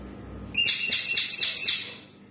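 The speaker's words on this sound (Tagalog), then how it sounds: "Pero alam ko, itong ibon to, alam ko kung anong pangalan. Matutina." A bird locally called matutina gives a loud, close run of four or five clear, whistled, swooping notes in quick succession, then falls quiet.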